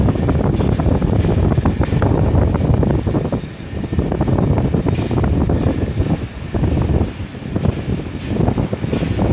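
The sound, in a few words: strong wind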